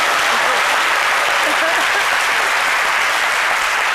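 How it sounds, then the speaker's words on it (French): A studio audience on a French television show breaks into sustained applause, a dense, loud, even wash of clapping lasting the whole stretch without a break. "Si c'est le cas, je vais vous entendre applaudir."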